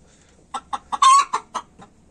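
Hens in a backyard coop give a quick run of loud, close clucks, about seven sharp calls in two seconds, one longer drawn-out squawk in the middle.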